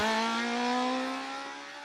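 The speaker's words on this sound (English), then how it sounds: "The engine's true charm, however, lay in its free-revving nature and a delightful exhaust note." A car with a small Fiat 128-derived engine revs hard and steadily with a buzzy, harmonic-rich exhaust note that eases slightly toward the end, heard alone and up close.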